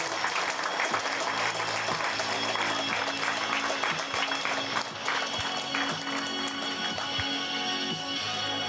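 Sustained audience applause greets the referee at a pétanque festival final in Saint-Juéry, dense steady clapping holding at full strength throughout, with occasional sharper claps standing out from the crowd.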